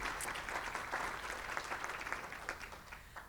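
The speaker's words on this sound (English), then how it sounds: "A round of applause." Audience applause for event staff at an agricultural innovation summit panel session, a fairly quiet, steady wash of many hands clapping heard from a distance, tapering slightly toward the end.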